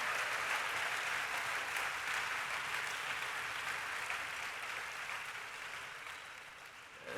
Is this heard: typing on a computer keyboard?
no